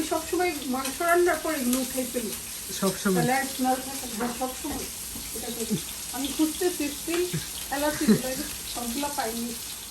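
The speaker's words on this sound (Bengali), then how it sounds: "যে আমাদের মাছ ভাজি হচ্ছে পেঁয়াজটা একদম লাল লাল করে ফ্রাই করে নিচ্ছি" Onions and fish frying in a pan: a steady sizzling hiss runs throughout, with a voice talking over it for most of the clip.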